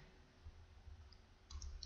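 A few faint, isolated mouse clicks over low room noise, quiet and close, with no talking.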